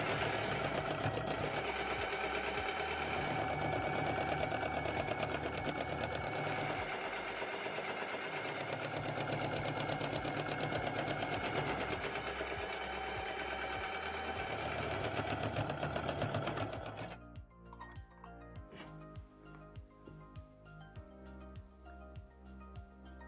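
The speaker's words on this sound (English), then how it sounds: "And then we can stitch the band in place on our sewing machine" A sewing machine runs steadily for about seventeen seconds, stitching the waistband of Luna pants, a fast even whir-rattle close by, then stops, leaving quiet background music.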